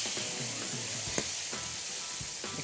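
Starch-coated chicken pieces sizzling in hot oil in a frying pan, a steady close crackling hiss with occasional soft pops and light stirring, no voices.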